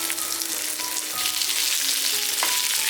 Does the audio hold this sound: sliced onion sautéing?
yes